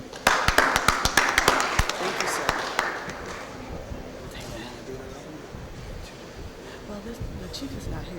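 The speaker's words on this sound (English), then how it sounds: "Let's give them one more round of applause" A round of applause breaks out in a St. Louis Board of Aldermen meeting chamber for SAK Construction, sharp claps loudest in the first few seconds, then thinning into scattered clapping and murmuring voices.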